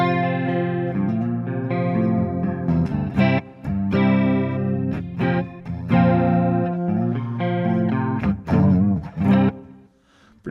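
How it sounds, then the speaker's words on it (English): Electric guitar played through a Kemper profiling amplifier set to a hyper medium chorus effect, giving shimmering, thick sustained chords and riffs with some distortion, loud and close, with no talking. "We'll choose a hyper medium chorus."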